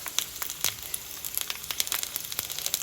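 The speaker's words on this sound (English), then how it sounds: "You can hear the noise of them sizzling" Sausages sizzling in a frying pan while resting, giving a steady soft crackle with scattered sharp pops and spits throughout, fairly quiet and close, with no talking.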